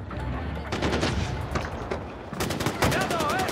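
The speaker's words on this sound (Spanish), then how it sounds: "¡Disparos! ¿Desde dónde?" Bursts of rapid gunfire in Far Cry 4 crackle repeatedly over a noisy background, with a few voices talking underneath.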